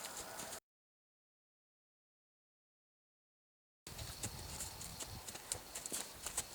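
Hooves of a ridden horse during one-rein groundwork drills, a steady run of soft clip-clop footfalls after a silent gap, with faint background noise.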